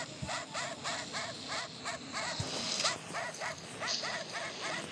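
Several dogs bark repeatedly at a steady rhythm, the yaps fairly close and loud over a noisy outdoor background, with a few yips mixed in.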